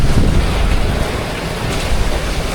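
Strong typhoon wind buffeting the microphone as the storm nears landfall in the Visayas toward Iloilo and Capiz, a steady loud roar with gusty low rumble filling the whole moment, no voices.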